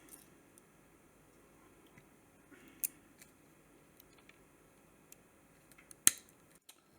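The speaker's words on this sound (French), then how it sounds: "finalement j'ai coupé les connexions car il était impossible de dessouder" Cutters snipping through the wire leads of a 3 W G9 LED lamp being fitted onto an E14 base: two faint, crisp snips spaced a few seconds apart in an otherwise quiet room with small handling clicks.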